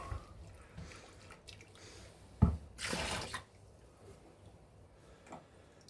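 Water poured into a homebrew John Bull IPA beer kit with thick malt extract, a close splashing pour lasting about a second after a small clunk, amid quiet room noise.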